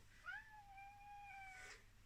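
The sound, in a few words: angry cat meowing behind the camera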